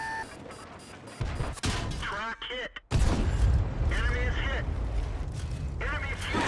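Tank gunfire in the World of Tanks video game, with heavy booming shots and a hit landing on an enemy tank destroyer, loud and close amid battle noise and mechanical clatter, while someone talks over it.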